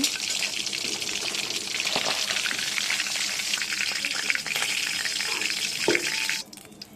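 Pangas fish frying in hot oil, a dense steady close sizzle with faint scraping as the pieces are lifted out, ending abruptly near the end.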